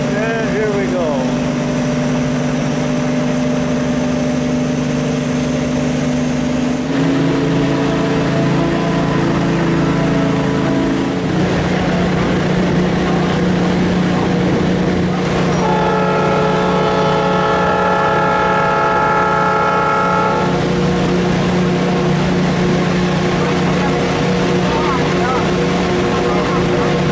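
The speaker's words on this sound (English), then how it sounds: "we're going to be pushed by these two diesels from the following train" Two heavy diesel locomotives pushing a train on a mountain pass rumble loudly and continuously nearby, their pitch shifting as they labor, with a brief higher whine partway through and faint voices.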